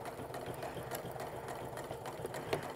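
A sewing machine stitches along the waistband of a heavy apron with a lot of fabric yardage, giving a quiet, steady whirring hum with a faint rhythmic needle patter throughout.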